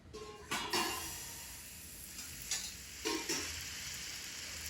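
Egg paratha batter frying in refined oil in a kadai over a low gas flame, giving a faint, steady sizzle broken by a few soft clinks of a ladle against the pan.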